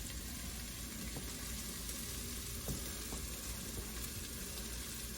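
Shallots sautéing in a pan, a steady low sizzle and frying hiss running throughout with a few soft clicks of a utensil.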